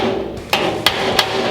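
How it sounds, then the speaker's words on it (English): Three sharp hammer blows ring out on a steel fender flare panel for an International Scout II, evenly spaced and close over a steady background hum. "I'm gonna hammer back over here."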